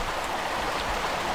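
A river current and waterfall in Tomb Raider (1996) give a steady, close, rushing wash of water with no pauses and no other sounds.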